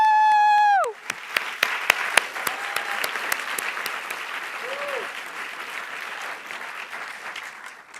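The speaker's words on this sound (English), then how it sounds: "huge round of applause." Live audience at a global startup competition finals in London breaks into loud applause after a brief sustained tone, with claps sharp at first and then settling into a steady, dense wash of clapping.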